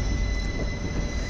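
Train 17309 pulls out of Yesvantpur station bound for Vasco, heard from inside as a steady low rumble with faint high wheel tones, continuous and even.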